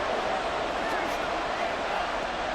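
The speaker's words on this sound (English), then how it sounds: "Crowd getting in it a bit already." Stadium crowd noise from a Madden 24 football video game, 49ers versus Seahawks, a steady dense roar that stays loud and even throughout.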